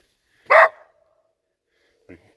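A dog out on a winter trapping trip in Wisconsin gives one sharp, loud bark followed by a much fainter, short yip about a second and a half later, with near silence around them.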